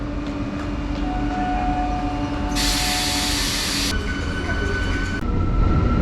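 Passenger train rolling slowly near Doddabele station between Bengaluru and Siddaganga, a steady heavy rumble of wheels and carriage noise with a metallic hiss and faint squeals, heard from inside the coach.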